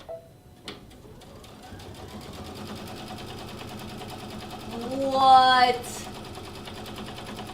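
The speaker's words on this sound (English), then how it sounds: "can we talk about how thick the Avenir can sew?" An Avenir sewing machine stitches through very thick quilting material layered with cardboard, a steady close mechanical whir that speeds up into a louder burst of rapid stitching before stopping, with a brief spoken word at the start.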